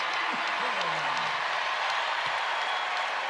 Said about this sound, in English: Heckel gets some love from the crowd.